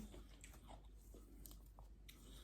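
Dried fried chili bitten and chewed, producing a few soft crunches and crackles close to the mouth, quiet against faint background hum, with no talking.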